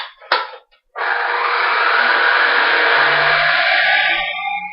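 An electric mixer whirs steadily through banana bread batter with cinnamon, a loud, close, continuous motor hum with beaters churning, after a brief knock and a short pause at the start.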